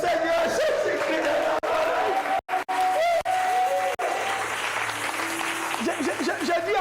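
A church congregation applauding and cheering, a sustained wash of clapping and whoops filling the room, with a voice ringing out over the crowd throughout.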